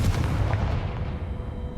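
Confringo fire spell blast in Hogwarts Legacy, a dense booming burst at the start that rumbles and fades over about two seconds, loud and alone.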